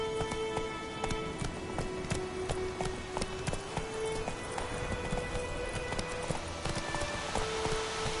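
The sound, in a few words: horse galloping in video game The Witcher 3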